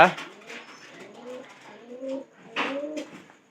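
Pigeons cooing in a coop, several soft rolling coos that rise and fall at close range, with faint low talk beneath them.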